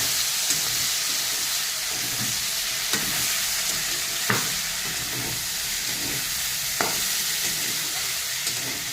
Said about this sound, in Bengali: এখন ভাজাটাকে একটু নাড়া দেবো।